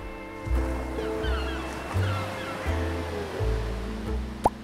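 Ocean waves wash steadily onto a beach, with a hushed surf roar swelling now and then. A low rhythmic rumble of music runs underneath.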